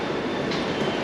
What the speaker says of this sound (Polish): podjechał nasz kolejny pociąg